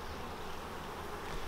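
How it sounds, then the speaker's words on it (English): Honey bees buzz steadily around a four-frame nucleus colony set beside an empty beehive, a continuous close insect drone with no voices. "The nuc has four frames of bees"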